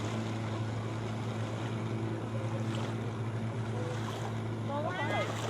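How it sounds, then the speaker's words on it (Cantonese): A small motorized water board idles and runs on the water, its engine giving a steady low drone under wind and lapping waves, with a brief whistle-like sound near the end. "而家帶呢隻咧就叫做水上嘅滑板，開個機試一試先。"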